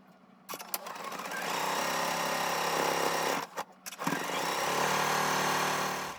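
A sewing machine stitches quilt pieces in steady, close, continuous whirring runs, pausing briefly midway before resuming at the same even pace.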